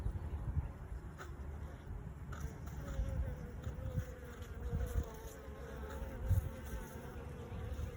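Honeybees buzz around a hive in a small bee yard, a close, continuous drone of many wings rising and falling, with light wind noise and occasional soft knocks.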